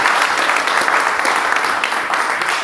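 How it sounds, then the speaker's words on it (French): A church congregation claps loudly and steadily in applause for the Lord, a dense continuous roar of hands held at an even level for the whole stretch. "Applaudissons pour le Seigneur"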